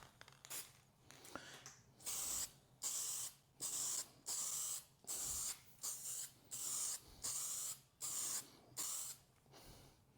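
A spray gun lays a third coat of paint on a panel in about a dozen rhythmic hissing bursts, each roughly half a second long, separated by short pauses and heard up close.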